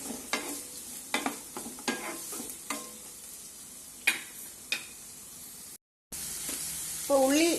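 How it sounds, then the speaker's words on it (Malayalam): Onions frying in a pan over a medium flame as they are stirred toward golden brown, quiet sizzling broken by sharp scraping and tapping strokes of a spoon at irregular intervals, with a brief voice near the end. "ഇനി ഇത് നല്ല ഗോൾഡൻ ബ്രൗൺ കളർ ആവുന്നവരെ ഇളക്കി കൊടുക്കണം"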